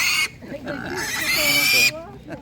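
Piglets grunting and squealing close by at a livestock market, a burst of harsh, high squeals with low grunts underneath, while a person talks over them.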